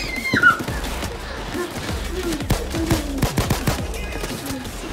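Rapid bursts of gunfire crackle in quick succession in the video game Payday 2, loud and close, mixed with game effects and a brief high whoosh at the start.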